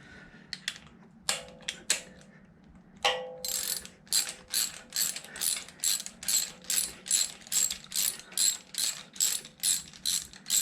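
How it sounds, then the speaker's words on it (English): A ratchet wrench with a 1/2 inch socket tightens a bolt on a 7.0 L (427 cu inch) LSX engine: a few short clicks, then a steady rhythm of about fifteen quick ratcheting strokes, close and clear. "I'm gonna use a 1/2 inch socket here to get it going in."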